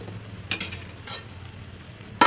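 Spicy Indian-style cauliflower fry is stirred in a pan: a couple of quick scraping strokes over a soft, steady sizzle, then a louder scrape right at the end.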